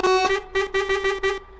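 A Águia Branca G8 coach's horn blares loudly and up close in a quick series of about five bright, tonal honks on the São Paulo to Rio de Janeiro road, with no talking over it.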